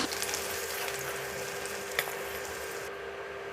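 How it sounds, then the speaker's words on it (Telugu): Sliced onions fry in hot oil, a dense, steady sizzle heard close up with a single brief clatter partway through, and no voices. "ఆయిల్ కొద్దిగా హీట్ అయిన తర్వాత ఐదు మీడియం సైజు ఉల్లిపాయలను కోసుకుని వేసుకోవాలి"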